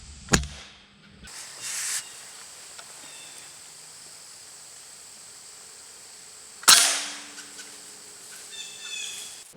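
A single sharp, loud gunshot rings out while squirrel hunting outdoors, followed by a fading echo, with a quieter crack early on and faint ambient woodland noise between.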